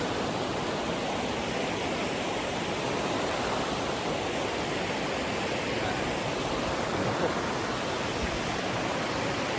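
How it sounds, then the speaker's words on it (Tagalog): Steady, loud rushing of the rocky Bagsit River in Palauig, Zambales, a continuous broadband roar of flowing water close by with no pauses. "makikita nyo yung Baksik River"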